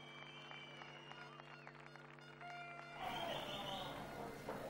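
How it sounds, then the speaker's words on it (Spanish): Audience applause for a murga group at an adult murga carnival contest in Arrecife, 2016. It follows music and swells into a loud, dense wash of clapping and crowd noise over the final seconds. "El aplauso para ellas."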